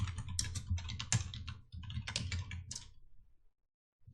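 Rapid typing on a computer keyboard in quick bursts of close clicky keystrokes with brief pauses, ending in silence after about three seconds.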